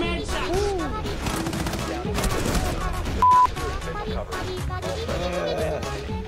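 Gunfire in the Rainbow Six Siege video game, rapid bursts of automatic shots and scattered single cracks through a tactical round, mixed with game sounds, with players talking over it.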